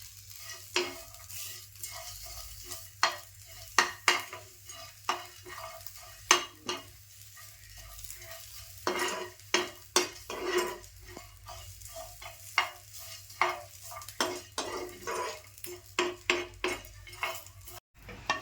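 Garlic and coriander frying in a pan for a black squid masala, with a spatula repeatedly scraping and clinking against the metal over a low, steady sizzle.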